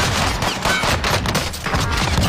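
Dense, continuous bursts of automatic gunfire from a video game firefight, a loud rattling fusillade of rapid shots layered over one another without pause for the whole stretch.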